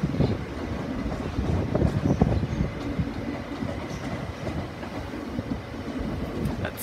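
A Class 375 electric train runs through Dover Priory station with a steady rumble and clattering wheel noise, the sound rising and easing slightly as carriages roll past at moderate volume.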